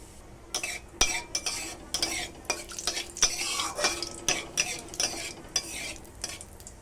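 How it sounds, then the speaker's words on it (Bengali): Black cumin seeds temper in hot oil in a pan, a soft steady sizzle broken by repeated scraping and stirring clinks of a spoon against the pan, close and without talk. "আমার তেল গরম হয়ে গেছে, এখন দিয়ে দেব কালো জিরে ফোড়ন।"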